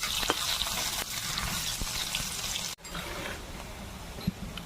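Chopped onion drops into hot oil tempered with dried red chilli, bay leaf and cumin, giving a continuous crackling sizzle with a brief dip partway through and a few stirring scrapes.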